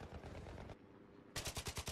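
Rifle fire from an engineer-class weapon in a video game: a sustained burst of rapid shots, then a brief lull, then a clear run of about six evenly spaced, loud, punchy reports.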